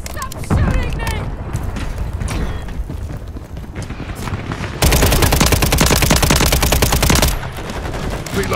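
Rapid automatic gunfire from the video game Modern Warfare III, with dense crackling bursts that swell into a sustained, loud volley lasting a few seconds before easing off, while a voice is heard during the shooting.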